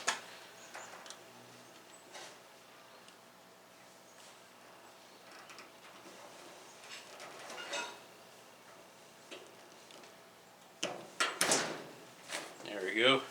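Small metallic clicks and scraping taps of a pick prying open a plastic dryer door switch, with a few louder clacks near the end and someone talking quietly.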